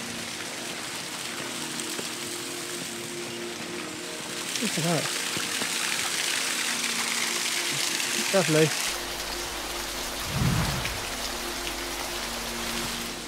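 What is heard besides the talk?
waterfall flowing on the Cotswold Way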